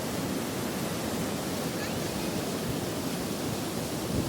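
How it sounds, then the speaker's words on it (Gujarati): A dense, constant roar of water pouring over the overflowing Rupavati Dam as a waterfall, loud and close and without pause, with no voices. "જો આ ધોધ"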